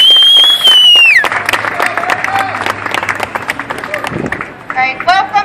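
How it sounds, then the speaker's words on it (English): Crowd at an outdoor cannabis rally in Reading breaks into applause and some cheering after a whistle-like tone, dense clapping that gradually thins out before voices resume talking. "So give a round of applause for Erica McBride."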